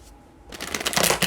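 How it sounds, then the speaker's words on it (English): Tarot cards being shuffled by hand, a quiet pause giving way to a close, brisk riffle of flapping, rustling cards that grows louder and denser, with no talking. "One more shuffle."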